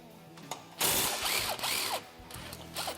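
A hand ratchet clicks quickly and loudly up close, loosening the brake caliper hardware on the rear knuckle of a Polaris RZR XP 1000, in two or three short bursts with brief pauses between.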